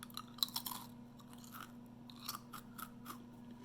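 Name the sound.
eating crunchy homemade sourdough crackers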